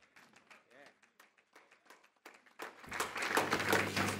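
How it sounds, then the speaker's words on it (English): Audience applause for the Indian football team breaks out loudly near the end, rising into a thick wash of clapping after a stretch of a presenter talking. "A huge round of applause."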